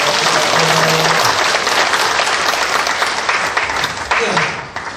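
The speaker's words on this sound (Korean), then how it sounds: "지금 박수 한번 해주세요." A Korean church congregation applauds during a service, a loud, dense wash of clapping sustained for several seconds before fading, with some voices underneath.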